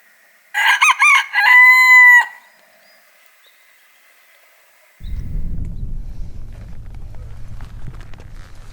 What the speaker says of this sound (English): I swear he's like a guard rooster